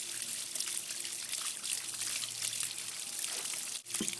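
Water runs steadily through a power washer being repaired, a soft continuous trickle and hiss at close range that briefly dips near the end.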